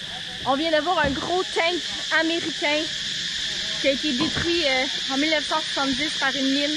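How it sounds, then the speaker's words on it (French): A dense chorus of many crickets shrilling constantly outdoors beside a wrecked American tank, a loud unbroken high-pitched buzz running beneath someone talking throughout. "Désolé pour le bruit, il y a énormément de grillons ici."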